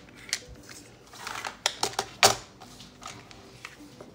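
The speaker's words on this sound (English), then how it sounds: "Maybe we need to cut just a bit of that off." Scissors cut cereal box cardboard in several crisp snips and crunches, clustered unevenly and heard close up, with quiet handling noise in between.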